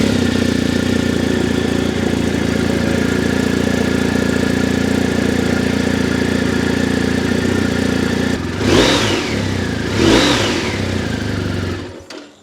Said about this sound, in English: So the GS uses the Boxer twin engine,